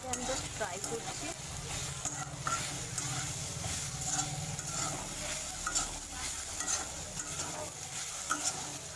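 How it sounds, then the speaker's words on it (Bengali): Maggi pasta fries in a pan with cheese to follow, a steady close sizzle broken by repeated scraping stirs and light clatter across the whole stretch, with no talking. "এটাকে আমি জাস্ট ফ্রাই করছি।"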